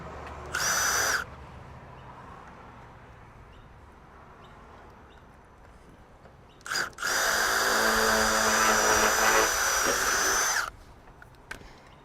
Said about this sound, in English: I might just put a rivet in it now to hold it in place